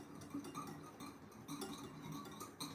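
A spoon scraping and clinking against a bowl while clumpy cinnamon and cocoa powder are mixed, a steady quiet rhythm of close, soft taps and scrapes.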